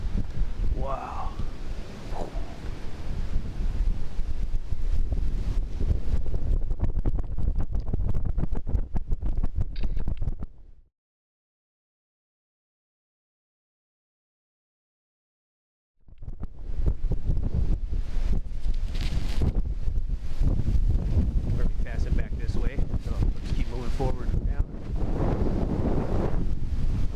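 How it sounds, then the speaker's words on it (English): Strong gusts buffet the microphone on a steep lower bluff trail in a state park, a loud roaring rush that cuts out briefly to near silence midway before surging back just as hard. "It's really windy too."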